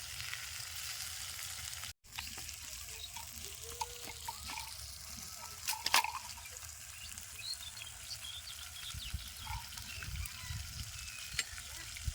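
Fish, a foli, frying in a pan in a village kitchen, giving a steady, soft sizzle with scattered small pops and crackles throughout, fairly quiet and without talk.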